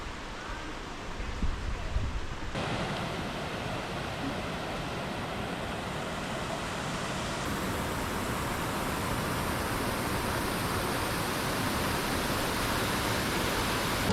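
A waterfall in a gorge gives off a broad, continuous roar of falling water that stays steady and fairly soft throughout, with no talking.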